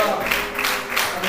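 A church congregation claps hands during a worship service, a brief, loud patter of many palms with rhythmic surges, mixed with voices and faint musical tones beneath.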